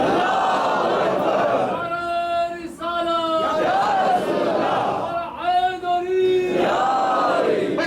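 A crowd at a majlis shouting a takbir response in loud, long massed chants that swell and repeat, filling the space.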